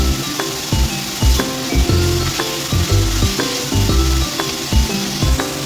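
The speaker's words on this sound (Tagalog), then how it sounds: "So, stir fry lang natin." Minced pork stir-frying for baked macaroni sizzles steadily in a pan, with repeated scraping strokes of a utensil and light clinks in an irregular rhythm, close and fairly loud, with no talking.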